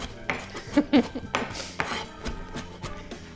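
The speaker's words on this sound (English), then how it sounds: "So the tip of the knife always remains on the cutting board, and you're just lifting the handle and chopping down." A knife rocks and chops down onto a cutting board with the tip kept on the board, while food is prepared in a home kitchen. Several sharp, close knocks come irregularly, with a scrape and faint clatter between them.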